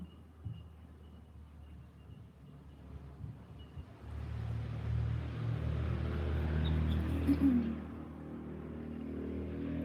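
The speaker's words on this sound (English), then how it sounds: "It's a motorbike about to come. It's going to be so noisy." A motorbike approaches and passes, faint and distant at first, then swelling into a louder, sustained rumble for the second half, peaking shortly before the end.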